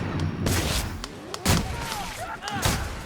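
Gunfire in the sci-fi shooter game The Outer Worlds, several loud booming shots spread over a few seconds amid busy combat noise, with speech mixed in.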